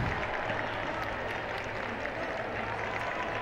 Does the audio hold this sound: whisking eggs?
no